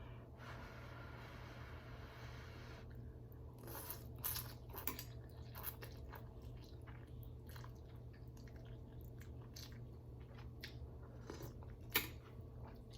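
Close, quiet chewing and slurping of spicy ramen noodles in broth, with scattered wet bites and squishy crunches over several seconds and no talking.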